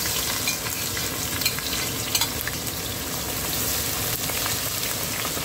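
Garlic and peppers frying in bubbling sugar for a mango talkari, a steady dense crackling sizzle with occasional stirring scrapes, close and continuous.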